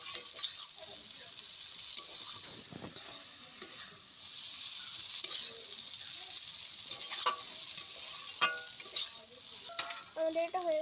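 Egg chow mein noodles sizzle and fry in a pan at a village kitchen in Bengal, while a utensil stirs them with scraping clinks and taps that come in irregular bursts over a constant soft crackle.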